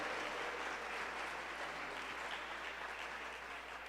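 Church congregation applauding guests, a broad even wash of clapping from many hands, steady throughout and fairly quiet, with no talk over it.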